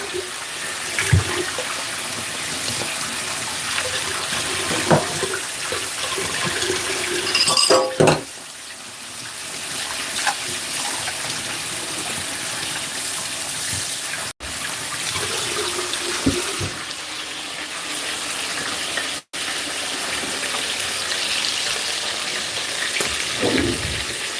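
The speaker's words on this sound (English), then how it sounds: "I will just wash my hand off a bit" Tap water runs steadily while hands are rinsed off during home cooking of garlic chicken, with occasional clinks of glass or dishes nearby and brief pauses in the flow.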